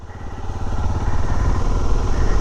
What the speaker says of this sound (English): you can just push the start button and it turns it over until the engine starts